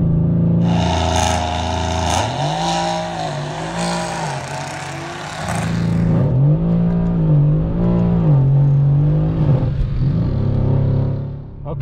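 A car engine revs hard and shifts up repeatedly through every gear at over 100, each gear sweeping up in pitch then dropping at the change, loud and continuous with no talk.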